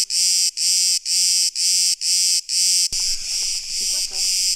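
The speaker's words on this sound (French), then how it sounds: "J'ai l'impression elles sont beaucoup plus énervées qu'en France, les cigales." Cicadas in Crete buzz loudly in a regular pulsing rhythm of about six evenly spaced bursts, then merge into a more continuous, near, harsh drone after a sharp click.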